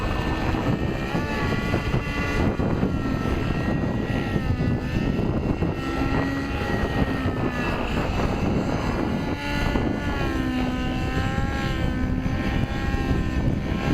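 A model airplane's OS 91HZ engine on a Vibe 50 Big Block drones loudly and continuously, its pitch rising and falling in smooth waves as the aircraft flies past and turns.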